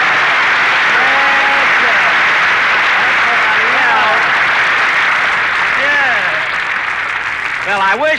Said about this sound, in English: so shower me with that sun-kissed applause